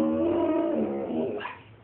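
Puppy nearby giving a drawn-out whining bark that slides into a whimper, loud and close, with no talk over it.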